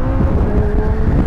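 A McLaren Elva supercar with no windshield drives fast, its loud engine roaring steadily and close with a sustained high whine and rushing wind noise, and no talk.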